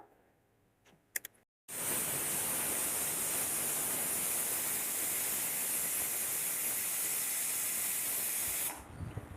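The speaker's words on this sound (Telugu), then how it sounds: "నాలుగు విజిల్స్ వచ్చినాయండి" Steam escaping from a pressure cooker in a loud, steady hiss. It starts abruptly after a few faint clicks and runs unbroken for about seven seconds before cutting off.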